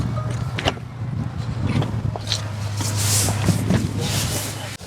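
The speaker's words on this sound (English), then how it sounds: "let's get in the car and start rolling." Someone climbs into a car with faint thumps, rustling and door clicks over a steady low engine-like hum, and a voice talks briefly in the background.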